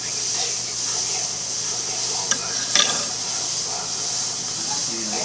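A mini jewelry torch heats solder on a barrel catch, giving a steady close hiss throughout with a couple of faint clicks in the middle.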